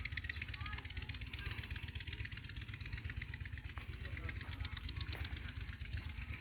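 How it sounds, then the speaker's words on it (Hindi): A tubewell pump engine runs at a steady idle, its low rhythmic chugging pulse continuous and fairly faint in the open air. "ट्यूबवेल की आवाज़ आप सुन रहे होंगे, ट्यूबवेल चल रहा है।"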